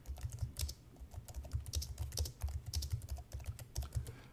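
Rapid, steady keystrokes on a computer keyboard while typing text in Microsoft Word, quiet and close, with no voices.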